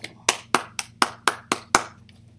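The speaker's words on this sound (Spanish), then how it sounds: "el público comenzó a aplaudir y a aplaudir" Eight crisp, evenly spaced hand claps for a performer's bow on a stage, each sharp and close, with a short pause at the end and nothing else heard.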